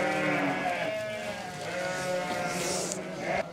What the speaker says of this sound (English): the sheep are so loud behind me